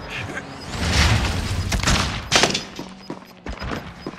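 A frag grenade bursting in Call of Duty: Modern Warfare, a loud booming blast amid dense gunfire and rumbling battle noise, with further sharp reports following.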